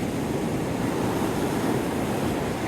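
Ocean waves wash onto Navarre Beach in a steady roar of surf, with wind buffeting the microphone, loud and continuous with no talking.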